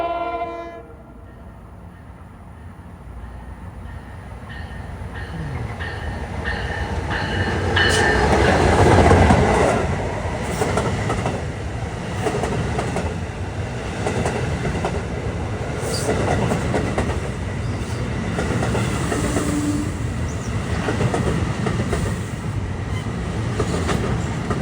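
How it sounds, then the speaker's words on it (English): A New Jersey Transit train hauled by an ALP-45DP locomotive passes a station platform at Princeton Junction, its roar building to a loud peak with horn blasts, then steady rumbling wheel clatter and rail noise as the cars roll by. "Approaching 233 is New Jersey Transit train"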